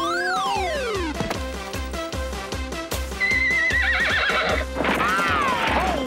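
A horse neighs in loud, wavering whinnies over a steady, rhythmic clip-clop of hooves.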